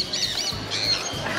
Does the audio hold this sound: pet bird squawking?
yes